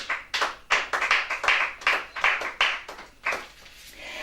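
A church congregation claps in acclaim of the Lord, a run of brisk, irregular handclaps from many hands that swell and fade in waves, fairly close with no talking over them.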